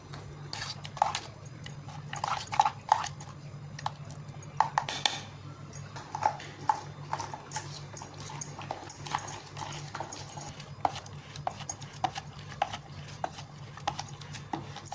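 Cream thinned with a little cool water is churned by hand with a wooden churner to make homemade ghee, giving a steady rhythm of close knocks and sloshing strokes over a low constant hum.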